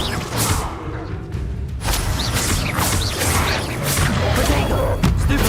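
An Incendio fire spell in Hogwarts Legacy erupts in loud bursts of crackling, whooshing flame and impacts, dense and close throughout.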